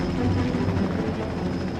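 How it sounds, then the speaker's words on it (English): A heavy Aircrane helicopter works over a logging site, its rotor and turbine making a steady, loud droning roar that fills the whole short stretch with no pause. "That aircrane can lift a lot of weight."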